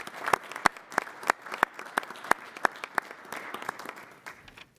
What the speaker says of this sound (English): let's have a round of applause for Councilwoman DeMaid as well.